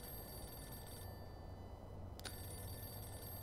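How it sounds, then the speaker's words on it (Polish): A telephone rings in Mafia II. The ring is faint and steady against a quiet background hum, with one brief click near the middle. "A oczywiście znowu telefon do nas dzwoni"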